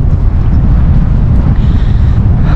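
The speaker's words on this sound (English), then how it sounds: "Oh, it's very windy today, in case you can't tell." Strong wind buffets the microphone at a seaside pier, a loud, continuous low rumbling roar with no pauses and no voices.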